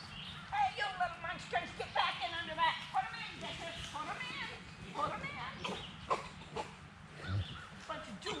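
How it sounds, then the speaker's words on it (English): Many young Meat King chickens cheep and cluck continuously in a barn, a busy overlapping chatter, with people talking quietly alongside. "Little yellow puff balls of Meat King chickens."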